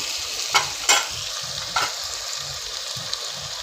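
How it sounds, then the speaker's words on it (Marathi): Onion sautéing in a pan with a pinch of cumin, a steady close sizzle punctuated by three or four sharp spatula scrapes at irregular intervals. "कांदा सगळं व्यवस्थित त्यामध्ये चांगला परतलेला आहे"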